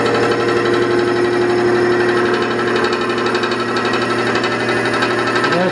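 Metal-cutting machine shaping a new part for a printing press, a loud steady mechanical drone with a fast rattling chatter and engine hum, continuous and close with no talking.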